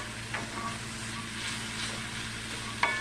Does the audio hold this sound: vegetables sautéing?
yes